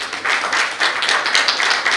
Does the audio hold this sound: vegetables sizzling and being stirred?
no